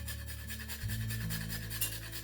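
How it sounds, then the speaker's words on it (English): Fresh nutmeg rubbed over a small hand grater above a pot of cream for herb-infused creamed potatoes, a faint, soft rasping under a low steady kitchen hum. "with just a little grater here, we're just going to grate maybe just a dash or a little more."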